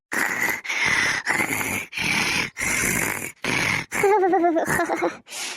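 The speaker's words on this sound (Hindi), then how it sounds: "क्या देखा बड़की जीजी तो खर्राटा मारतियां हैं" A woman snoring in a steady rhythm of loud, rasping breaths, close by, ending in a few whiny, wavering groans.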